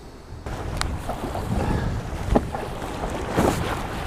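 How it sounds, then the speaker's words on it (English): Sea waves slap and splash against a kayak off the Cornwall coast, with irregular close knocks and sloshes over a constant rush of wind and water. "I'm starting to get hit by some waves"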